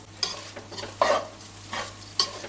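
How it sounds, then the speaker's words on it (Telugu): Biryani rice frying in a pan with ginger garlic paste is stirred, giving a steady sizzle broken by several scraping strokes of the spoon against the pan, close and without talk. "అల్లం వెల్లుల్లి పేస్ట్ వేసుకుని మళ్ళీ కలుపుకోవాలి"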